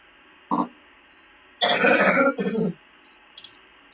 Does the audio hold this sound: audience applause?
no